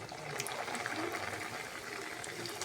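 Samosas dropped into hot oil, a steady bubbling deep-fry hiss with soft crackles, moderately loud and continuous.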